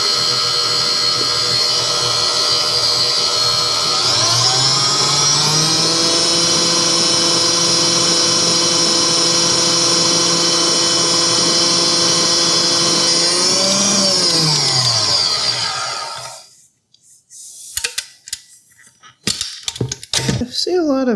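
A GE stand mixer beating eggs gives a loud, steady motor whine that ramps up in speed, holds for about ten seconds, then winds down and stops, followed by a few clinks and light handling noises.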